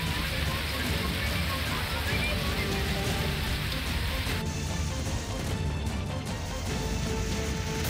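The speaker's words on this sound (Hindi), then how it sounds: "तेज बारिश के साथ ही कई इलाकों में दिल्ली में ओले भी गिरे हैं" Heavy rain pours down in Delhi during a storm with hail, a steady dense hiss of drops on surfaces that continues throughout, slightly thinning in the upper range partway through.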